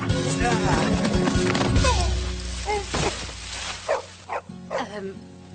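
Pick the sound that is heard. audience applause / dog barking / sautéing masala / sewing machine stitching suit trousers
dog barking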